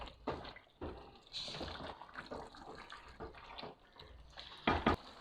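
Water poured from a vessel into a pot of mutton kofta curry, soft irregular splashing and trickling bursts at close range, fairly quiet, with a louder splash near the end.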